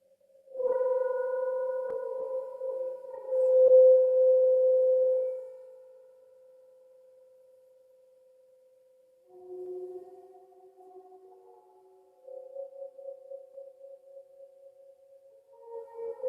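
A gong rubbed in small circles gives off sustained, pure humming tones, a steady drone with higher overtones that fades and then returns as softer pulsing pitches.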